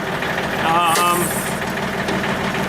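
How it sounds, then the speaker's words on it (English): A tractor engine idling close by, a steady low rumble with slight knocking vibration, while someone talks over it. "I'm going to have to rev the tractor up a bit"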